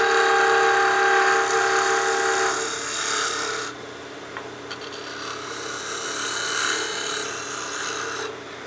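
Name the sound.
lathe tool smoothing a turned wooden whistle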